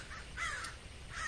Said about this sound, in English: And crows, lots of crows chasing hawks away.